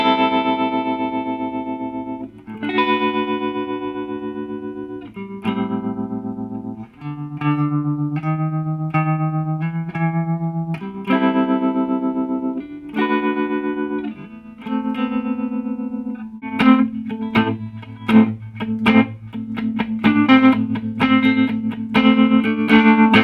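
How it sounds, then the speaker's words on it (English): Gibson Scout GA-17RVT tube guitar amplifier with its tremolo switched on, a clean electric guitar playing sustained chords and single notes that pulse in volume, ringing loud and close with no talking. "turn the tremolo on. The tremolo sounds pretty good."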